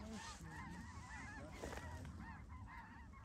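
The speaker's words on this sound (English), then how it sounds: "Those geese want to go somewhere else." A flock of geese honking continuously during a waterfowl hunt, a faint overlapping chorus of calls at a distance over steady outdoor background noise.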